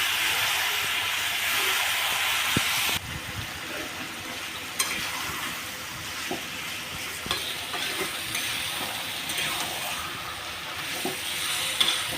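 Taro leaves and chickpeas frying in a pan, a steady loud sizzle and hiss that drops a little after a few seconds, with scattered stirring scrapes and clinks throughout.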